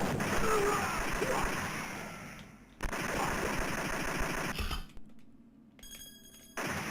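Rapid gunfire in the Operation Wolf arcade game, dense automatic shooting in loud sustained stretches broken by brief gaps, with tonal game effects toward the end.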